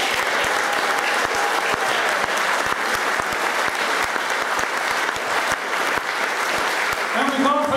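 Sustained applause from a live audience at a swing band performance, dense and steady clapping filling the room for several seconds at fairly loud level.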